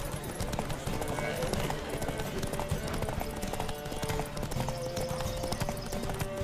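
Rapid, rhythmic hoofbeats of a galloping horse in the video game The Witcher 3: Wild Hunt drum steadily throughout, with music and a voice faintly underneath.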